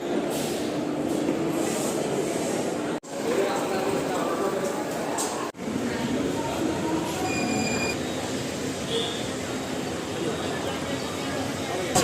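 A Palakkad Town–Erode MEMU unreserved train rolls into Coimbatore Junction, its steady rumble and rattling carriages filling the scene, with high metallic wheel squeals toward the end and two abrupt breaks in the sound.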